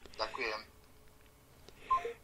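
Short telephone dialing tones pulse over a quiet phone line, with a person speaking briefly before and during the beeps.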